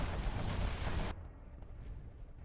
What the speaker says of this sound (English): another particle cannon fires off on the quad cannon army